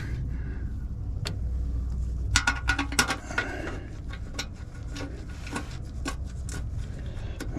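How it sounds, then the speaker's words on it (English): Oil pan bolts being threaded by hand on a 1982 Ford F-150, heard as close, irregular metallic clicks and small ratchet-like rattles over a low steady background rumble, with no talking. "I want to start all these bolts by hand so I don't cross thread any of the bolts."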